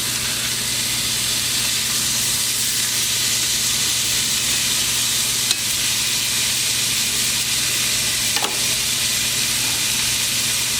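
Pork chops sizzle and hiss steadily in a hot frying pan just after being flipped, a dense, even crackle with a couple of brief sharp pops, no talking.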